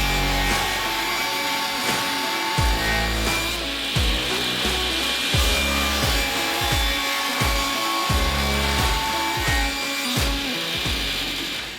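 Continuous loud sawing through wood pieces for a no-weld wooden go-kart frame, steady rhythmic strokes with a dense buzzing power-tool texture running the whole time, no talking.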